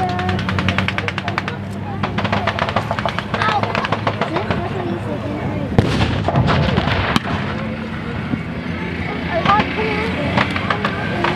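Mounted .50 cal machine guns on M3 half-tracks fire during a World War II battle reenactment, rapid bursts of loud, echoing shots over engine rumble, with a commentator talking throughout.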